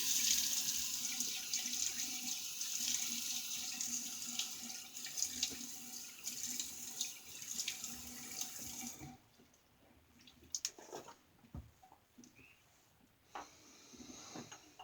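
A bathroom tap runs loudly as water wets a face before a shave, a steady splashing hiss that stops abruptly about two-thirds through, leaving quiet drips and small handling sounds.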